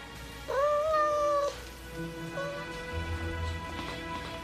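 A cat gives one loud, drawn-out meow up close, followed by a fainter, shorter meow over soft background noise.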